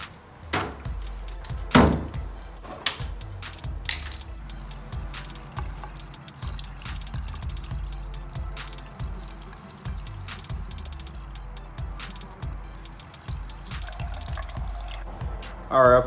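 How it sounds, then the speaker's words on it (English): Distilled water trickling and splashing into a motorcycle radiator during a coolant change, irregular drips and pours with scattered clanks and knocks, close and fairly quiet, with brief talk. "I'm gonna fill it up with distilled water"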